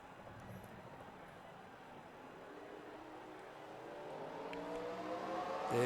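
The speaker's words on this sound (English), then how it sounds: "Drivers, start your engines!" Engines of a stock-car field in an Xfinity Series race at Indy inside a racing video game, droning steadily and building to louder revving toward the end, with no talk.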